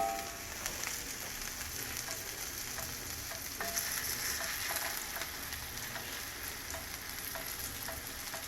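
Homemade fish cakes frying in a pan give a steady, close sizzle with constant crackling spatter throughout and a few sharper pops, with no one talking.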